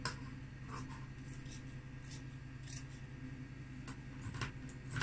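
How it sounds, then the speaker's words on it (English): Fabric scissors trimming excess seam allowance on a sewn suit neckline, with repeated soft snips and rustling cloth close by over a steady background hum. "Once you've sewn it all, you need to trim away the excess."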